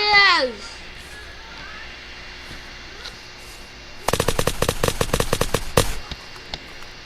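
In the video game Unturned, after a brief shout and some quiet, a loud burst of rapid machine gun fire rattles for about two seconds, followed by a couple of stray shots.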